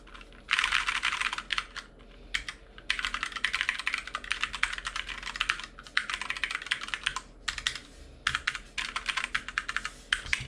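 Clacky Cherry MX Brown mechanical keyboard typing on a ZSA Moonlander in fast bursts separated by short pauses, close and moderately quiet, with no voices.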